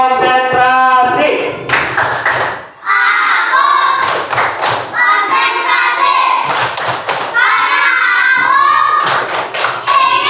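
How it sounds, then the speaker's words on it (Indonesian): Elementary school students perform a rhythmic concentration clap in a classroom, sharp patterned clap bursts between loud chanted children's voices, close and energetic. "Tepuk konsentrasi."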